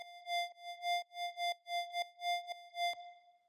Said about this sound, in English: So this is a pretty simple kind of drone thing.